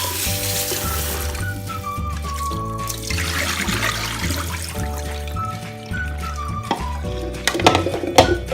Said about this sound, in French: Donc, on les enlève et on va les rincer.